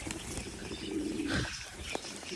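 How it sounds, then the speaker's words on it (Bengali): Pigeons or doves coo softly at a village home on a rainy day. The low cooing is faint and sits under a steady background hum, with no talking. "এই গুগু পাখিগুলো আমার খাবার খেতে শিখেছে"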